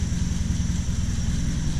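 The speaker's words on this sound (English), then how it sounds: "It is idling pretty smooth actually," A Triumph Spitfire engine with a Weber carburettor idles steadily close by, running rich with an even, low, throbbing pulse and no pauses or voices.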